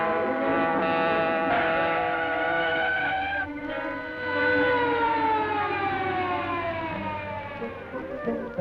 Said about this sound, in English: Police car following us, Kato.